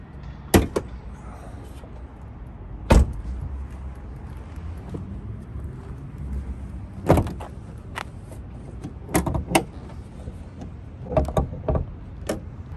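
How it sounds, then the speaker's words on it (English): Hood of a Ford Mustang Mach 1 being opened: several sharp metallic clunks and latch pops, close by, separated by quiet pauses, with a faint low background hum. "Let's pop the hood and talk about the other major thing."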